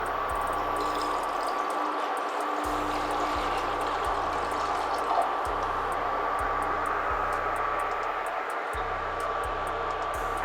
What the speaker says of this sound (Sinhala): වතුර දාගමු.